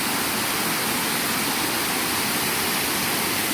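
Water from a round waterfall pours steadily over rocks in a natural setting, a loud, continuous broadband rush with no pauses and no voices.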